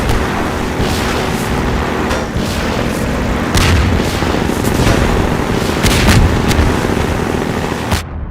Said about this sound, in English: Oh, those missiles, dude, they're so cheap.